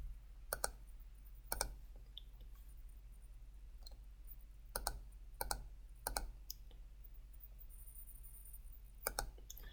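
Computer mouse clicking at a desk: faint, sharp single clicks and a few quick double clicks, spaced irregularly against a quiet low hum, with no speech.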